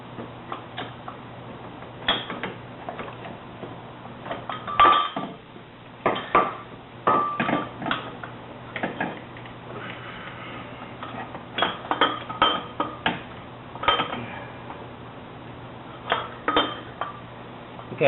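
Metal parts of a 1999 Mazda Miata's intake support clink and tap as they are handled into position, with scattered light knocks and rattles at close range against a quiet background.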